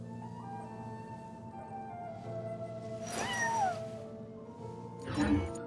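A cat in the game Genshin Impact meows twice over a steady tonal hum of background music, the first a drawn-out descending meow and the second a shorter, lower one.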